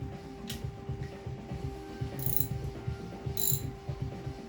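A hand ratchet clicks in rapid, even pawl ticks as a socket and extension tighten the rocker cover bolts on an Alfa Romeo Spider, close and steady throughout, with a few brighter metallic accents and no talking.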